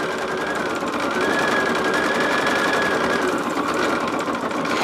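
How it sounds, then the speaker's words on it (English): An embroidery machine quilts a fabric project in the hoop, its needle running a fast, steady mechanical whir that stays loud and close for the whole stretch without pause. "I wanted to try quilting in the hoop just to see how that worked"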